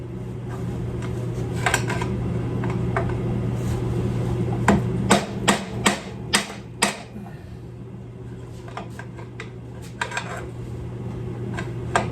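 A sledgehammer striking part of a Yamaha XJ900 motorcycle fork, a series of sharp metallic blows in quick succession midway, with scattered lighter knocks over a steady workshop hum.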